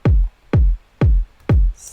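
Four deep, punchy kick drum hits from an FL Studio disco house beat, evenly spaced about half a second apart, each with a sharp attack and booming low decay, heard alone with no talk.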